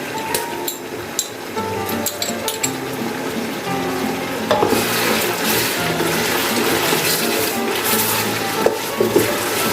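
Mutton frying with ginger garlic paste for a white mutton karahi, a loud close sizzle that swells halfway through, with clicks and knocks of stirring against the pan.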